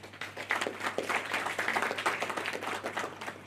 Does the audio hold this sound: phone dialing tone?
no